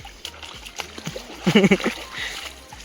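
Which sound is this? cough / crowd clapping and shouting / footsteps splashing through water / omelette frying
footsteps splashing through water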